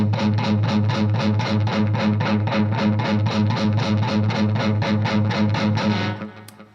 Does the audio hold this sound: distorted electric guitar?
yes